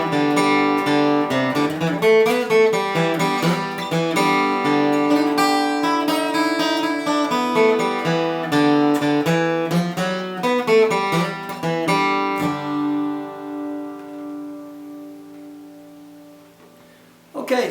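A solo guitar plays Lonesome Road Blues using the major blues scale, with a lively string of plucked notes and phrases that ends on a sustained, ringing chord fading out.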